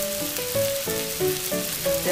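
Onions with salt, turmeric and garam masala frying in a pan for okra curry, a steady close sizzle with stirring noises, with faint tonal sounds running underneath.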